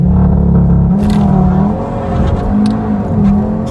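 An Audi TT RS with 400 hp accelerating hard: a loud, close engine note climbs steadily, drops briefly at a gear change, then pulls again with a strong rising growl, with no voices.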